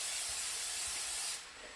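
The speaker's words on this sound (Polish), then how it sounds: "To wszystko musimy wrzucić na patelnię i poczekać, aż woda się odparuje, aż to wszystko zmięknie." Onion and mushrooms frying in a pan give a steady, bright sizzling hiss that carries on evenly and then eases off slightly near the end, with no talking.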